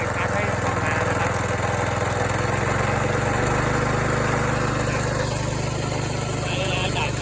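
A small engine on a remote-controlled lawn mower runs loud and close, holding a steady throbbing drone and shifting pitch slightly midway as it is revved to drive the alternator.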